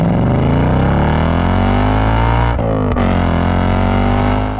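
A 2025 Ford Mustang GT's engine revs hard on the road, a loud continuous roar that climbs in pitch, dips for a brief shift around the middle, then climbs again.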